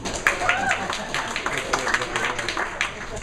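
Scattered audience clapping at a live crime-mystery show, a loose patter of claps spread across the room with talk and background voices running through it.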